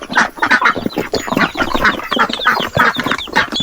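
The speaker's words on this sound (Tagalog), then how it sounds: "Tikarol kung tawagin sa amin." A tikarol bird caught in a net calls repeatedly in a busy, rapid series of squawks and clucks, close and loud, with farm chickens nearby.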